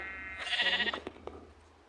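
A single short sheep bleat in a video game, clear and fairly close, over a quiet background with a couple of soft clicks after.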